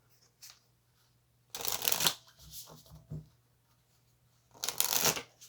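Tarot cards shuffled for a final card in a reading: two loud, dense riffling bursts with a softer flurry of card handling between them, close and alone over a faint steady hum.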